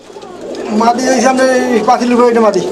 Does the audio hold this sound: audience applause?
no